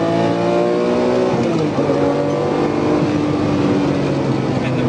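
A Lamborghini Murcielago V12 with a 7,500 RPM red line revs hard, its loud close engine note climbing and shifting through rising and falling pitch sweeps that carry through the whole stretch without speech.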